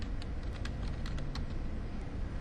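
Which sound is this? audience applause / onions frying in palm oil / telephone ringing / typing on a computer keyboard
typing on a computer keyboard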